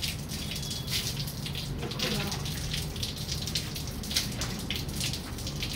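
Water sprays steadily onto an air conditioner being washed, a continuous hissing splatter with a few louder bursts, while people talk over it.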